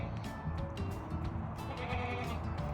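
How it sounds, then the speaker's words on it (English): Max, a big male goat with thick horns, bleats on a farm, a wavering cry heard among fainter bleats from other animals over a steady outdoor background hum. "So this is Max, and he's the daddy goat."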